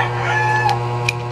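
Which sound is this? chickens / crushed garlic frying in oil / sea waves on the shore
chickens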